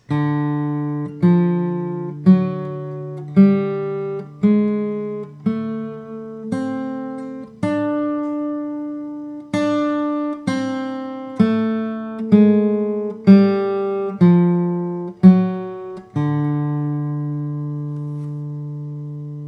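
A plucked acoustic guitar plays a bluegrass scale note by note at an even, unhurried pace, each tone ringing clearly before the next, ending on a sustained note.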